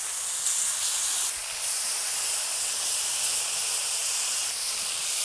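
Marinated steak strips for pepper steak sizzle on a Blackstone griddle with a steady, bright hiss. The hiss stays fairly loud, shifting slightly as more strips are laid down.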